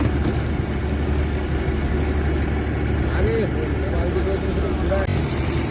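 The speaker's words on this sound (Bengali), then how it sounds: "এখন আমাদের এই ট্রলার চলেছে হলদি নদীর উপর থেকে" A trawler boat's engine drones steadily at close range and fairly loud while crossing the Haldi river, a continuous low rumble with voices faintly audible over it.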